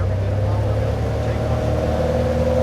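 A light aircraft engine with a fixed-pitch propeller runs at full takeoff power, a loud, steady, close droning roar with a constant low hum, with talk faintly under it.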